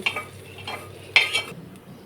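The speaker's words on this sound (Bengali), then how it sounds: "এখন আমি পেঁয়াজের যে বেস্তটা করে রেখেছি সেটা আমি ডালের উপরে ছেড়ে দিচ্ছি" Hot fried onion tempering with panch phoron hits lentil dal, a brief close sizzle with soft stirring and clinks of a utensil against the pot, lasting about two seconds.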